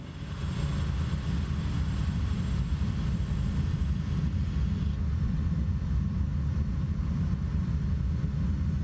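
A light aircraft in Microsoft Flight Simulator 2024 comes in to land with the throttle cut, giving a steady, loud, low engine and wind drone that holds constant throughout with no speech.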